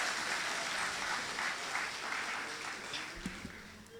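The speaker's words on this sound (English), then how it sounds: "Give a round of applause again for Senator Nolan Cox." A crowd at a political party's special meeting applauds a senator with steady, continuous clapping that stays even throughout, heard at a moderate distance and fairly faint.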